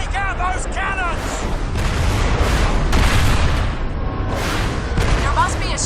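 Heavy cannon fire booming in a Crysis battle, with repeated loud blasts and rumbling explosions over dense combat noise and shouting voices.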